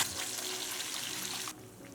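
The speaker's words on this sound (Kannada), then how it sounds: "ಮಿಕ್ಸಿ ಜಾರಿಗೆ ಒಂದು ಅರ್ಧ ಕಪ್ನಷ್ಟು ನೀರು ಹಾಕ್ಕೊಂಡು ಸೇರಿಸ್ತಾ ಇದ್ದೀನಿ" Water pours into a mixer jar in a home kitchen while making a capsicum curry, a steady trickling splash that stops abruptly partway through.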